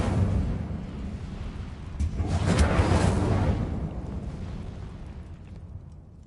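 A fire spell cast in the fantasy game Hogwarts Legacy flares up as a broad whooshing roar that swells midway and fades over several seconds, fairly soft and continuous.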